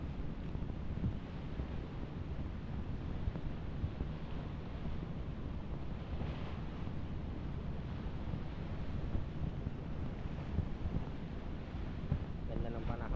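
Wind and big ocean waves at sea wash over a boat in a continuous broadband roar with heavy microphone buffeting, steady and close throughout.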